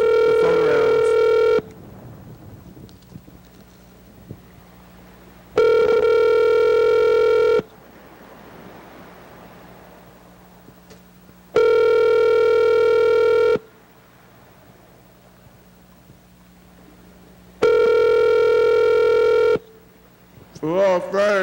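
A telephone ringing in repeated long tonal bursts, four rings spaced evenly about four seconds apart with quiet gaps between them, then a brief burst of dialing tones at the end.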